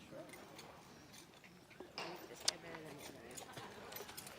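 A horse is walked on a hard surface at a stable sale, its hooves clip-clopping faintly in an uneven walking rhythm. People talk quietly nearby.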